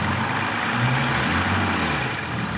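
A twin-turbo diesel BMW engine, bought as a mechanic special, runs loud and close with a steady, dense rumble and no clear rise in pitch throughout the short stretch. No voices.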